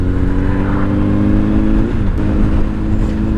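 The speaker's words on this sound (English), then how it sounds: "This is the Amazon truck that looks like a UPS truck." An Amazon delivery truck that resembles a UPS truck drives by on a street. A loud, steady engine drone and tire rumble stay close throughout with a slight shift in pitch as it passes, and no one speaks.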